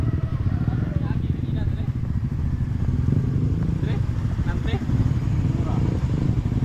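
A Repsol big bike motorcycle on a charity adventure ride idles and rumbles loudly and continuously nearby, a dense low engine drone with faint clatter and no speech.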